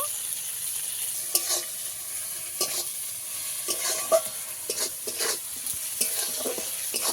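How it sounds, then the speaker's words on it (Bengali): Chopped tomato and onion with salt being stir-fried in a pan, giving a steady bright sizzle broken by repeated scraping and stirring clatters, close and alone. "কেটে রাখা টমেটো, পেঁয়াজ একসঙ্গে আবারও মিশিয়ে ভালো করে একটু কষাতে হবে"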